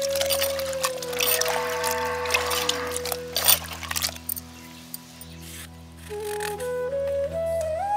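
Salted water is poured over long-cut eggplant pieces in a bowl, a steady splashing pour for about four seconds that tapers into trickles, with low background hum and a faint rising tone afterward.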